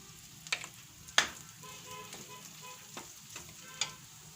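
Soaked fenugreek and chillies fry in oil, giving a quiet, close sizzle broken by several sharp spoon taps and scrapes against the pan at irregular intervals. Nobody talks.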